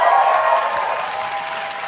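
An in-person audience at a Google event breaks into loud, dense applause that fades slightly as it carries on for a couple of seconds.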